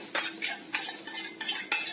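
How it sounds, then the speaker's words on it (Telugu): A spoon clinks and scrapes against a dish several times in quick, uneven strokes while tempering is stirred into spinach chutney, close up with no voices. "ఈ తాలింపు వేసుకుందాం"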